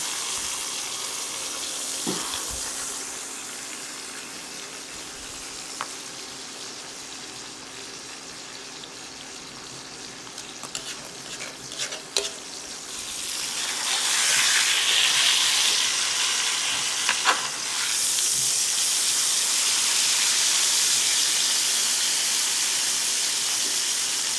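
Steak searing in a pan with its fat edge turned down to render, giving a steady close sizzle and hiss throughout that swells louder in the second half, with a few small clinks along the way.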